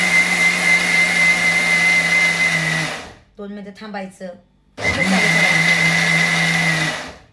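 Electric mixer grinder grinding masala runs loud and steady up close, stops briefly while someone speaks, then whirs back on at full strength.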